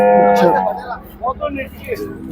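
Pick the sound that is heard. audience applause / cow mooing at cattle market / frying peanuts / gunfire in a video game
cow mooing at cattle market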